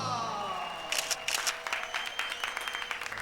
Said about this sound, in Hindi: अरे काम हुआ नहीं, ताली बजा दी।